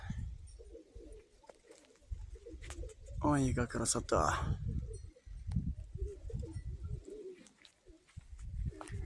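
Pigeons coo softly and steadily in the background while a person speaks briefly, with some rustling and a short burst of other sounds.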